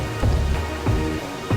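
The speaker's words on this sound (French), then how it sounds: "Aujourd'hui il pleut." Steady rain falls in Marrakech, a dense continuous patter with a few heavier drops or splashes standing out at intervals.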